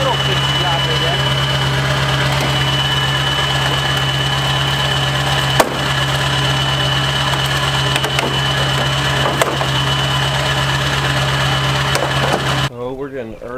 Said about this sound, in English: Cold start up here on the Duramax.